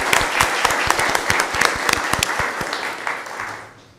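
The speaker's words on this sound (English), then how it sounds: "Let's give them a round of applause." A smaller group at a Board of Commissioners meeting gives a round of applause, with individual claps distinct and sharp before the clapping fades out near the end.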